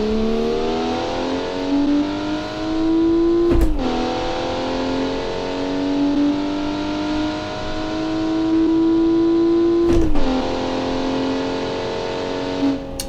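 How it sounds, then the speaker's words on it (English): An 80s budget performance car in BeamNG.drive holds high revs before launch, its engine note rising and wavering loudly, with two sharp breaks where it drops and climbs again. "I'll try to go a bit higher with the revs now."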